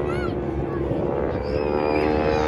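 Aerobatic plane carrying a wing walker at an air show, its propeller engine droning steadily and loudly throughout with no break.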